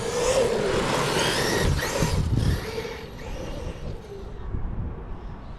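A Traxxas E-Revo 2.0 RC car whines loud and close as it accelerates, the high electric motor and tire noise surging for a couple of seconds before fading as it pulls away.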